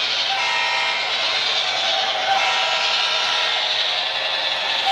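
The Branson Scenic Railway train rolls past at close range, a loud continuous rumble of wheels and cars with a steady rail roar throughout, no voices.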